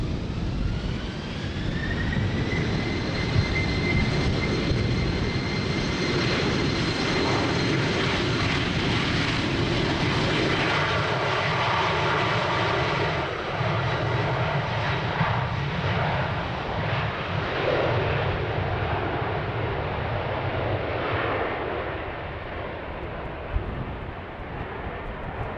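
A jet airliner departing runway 36L at Amsterdam Schiphol bound for London Heathrow roars steadily with a rising engine whine, heard from a distance in windy conditions and sustained throughout, with no talk.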